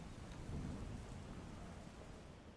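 A low rumble of thunder rolls beneath steady rain in Devbhumi Dwarka district, swelling early and slowly fading over a few seconds.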